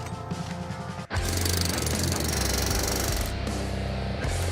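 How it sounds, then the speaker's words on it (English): Loud, rapid mechanical pounding of a hydraulic hammer fixing railroad rails in place, starting after a brief lower rumble and continuing as a dense, harsh hammering roar. "He's using the hydraulic hammer."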